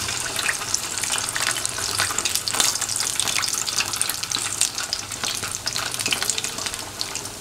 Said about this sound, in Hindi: उसे भी हम कॉर्नफ्लावर मिक्सचर में डिप करेंगे, उसे भी हम ऑयल में डाल देंगे